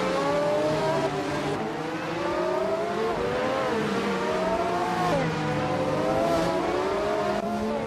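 Race cars in a racing video game, BTC-class machines roaring together, engines rising and falling through gear shifts in a continuous loud drone as several cars run close.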